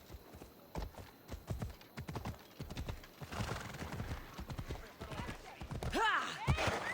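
A horse in the Assassin's Creed Odyssey video game gallops with a brisk, close clip-clop of hooves, ending in a loud neighing whinny, while a voice speaks over it.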